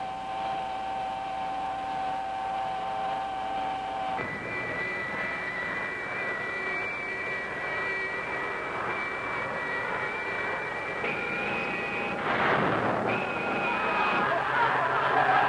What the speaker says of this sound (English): More thrust. I'm turning it up.